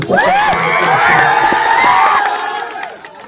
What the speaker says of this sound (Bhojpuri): एक बार ताली बजा के आप लोग हमको